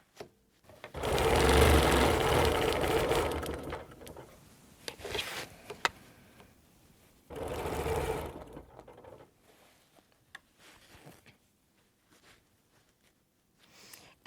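A sewing machine stitches a quilt in two loud, steady runs of rapid whirring a few seconds each, separated by quieter handling clicks and rustles.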